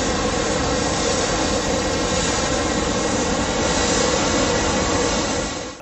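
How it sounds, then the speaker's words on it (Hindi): Military jets and helicopters fly at the Dubai Air Show, producing a loud, steady broadband roar of engine noise that holds for several seconds before easing off at the end. "दुबई एशिया में जंगी जहाजों के गनगरज के साथ साथ हेलीकॉप्टर्स और कमर्शियल जहाजों की हैरानकुन परवाजों ने देखने वालों को महवे हैरत में डाल दिया"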